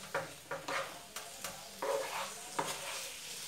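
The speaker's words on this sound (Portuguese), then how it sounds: "Agora eu tô botando a carne para refogar" Meat, with one piece still partly frozen, sautés in a pan for a hot dog filling: a soft sizzle with irregular spoon knocks and stirring scrapes, quiet and close, with no talking.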